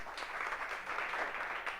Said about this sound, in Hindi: जोरदार ताली बजा दो एक बार